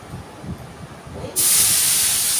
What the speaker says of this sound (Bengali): কড়াইটা গরম হয়ে গেছে, তেলটা দিয়ে দিলাম